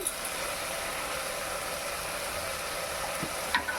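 Okra stew stirred in a pan, a steady soft sizzle and hiss with faint scraping throughout, fairly quiet and without talk.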